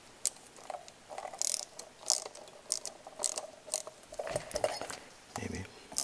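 A ratchet tightens nylock nuts that squeeze down on rubber on an outdoor wood boiler damper, with faint, irregular metallic clicks and light clatter spread over several seconds.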